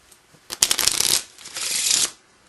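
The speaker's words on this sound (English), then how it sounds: "while you're shuffling the cards" A deck of playing cards is riffled twice in quick succession, each shuffle a dense, close flutter of paper snapping, with no talk.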